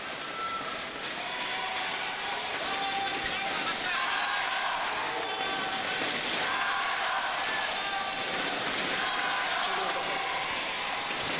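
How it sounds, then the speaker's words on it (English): A stadium crowd at Gachibowli Stadium roars steadily in encouragement for Korea during the 2009 World Championships men's doubles badminton final, a dense, continuous wash of cheering beneath a commentator's talk. "the sympathetic crowd here in the Gachibowli Stadium giving Korea"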